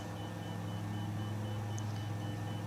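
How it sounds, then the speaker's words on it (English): A middle marker beacon in Microsoft Flight Simulator beeps in a steady, evenly spaced series of short tones during an approach in an Icon A5. The beeps are faint under a constant engine drone heard from the cockpit. "It's the middle marker."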